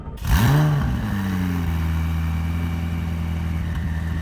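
A McLaren 600LT's twin-turbo 3.8-liter V8 with a DME-tuned exhaust blips sharply to a loud rev, then settles into a steady, deep, droning hum that holds close and strong for several seconds.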